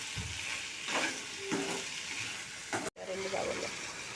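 Okra frying in a pan, a crackling sizzle with occasional stirring scrapes and clatters, steady and close, with a brief dropout near the end.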